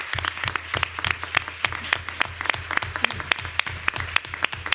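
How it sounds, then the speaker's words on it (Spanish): A closing round of audience applause after a flamenco talk, with sharp, distinct claps in a lively, fairly sparse rhythm from a modest crowd, close and clear with no talking. "Pues un fuerte aplauso para despedirnos."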